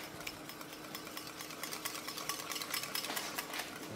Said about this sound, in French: On va reprendre le fouet et mélanger le tout.